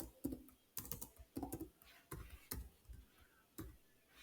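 Someone types on a computer keyboard, close and quiet, with a handful of irregular, crisp keystroke clicks separated by short pauses.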